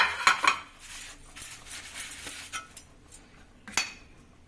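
Metal idli plates clink and clatter in a quiet run of light, irregular knocks as they are wiped and oiled, with short pauses between the sharper hits.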